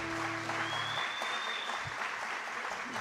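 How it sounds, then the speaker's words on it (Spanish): Audience applause after a music recital, a steady, moderately distant patter of clapping with a few stray tones, no voices over it. "un aplauso otra vez"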